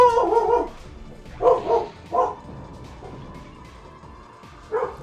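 A dog in a Digimon World 3 game barks excitedly in a few loud, sharp bursts, two close together, then a pause before one more yip near the end.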